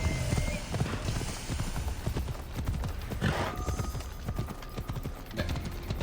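Horse hooves clip-clopping at a steady walking rhythm in Assassin's Creed Odyssey, close and fairly loud, with light ambient noise and brief voice sounds in the background.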